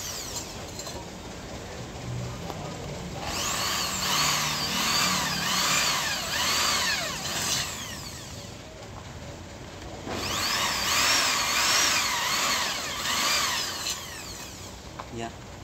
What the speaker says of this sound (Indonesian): Ini saya pakainya bor 6 nih, 6 mili maksudnya ya.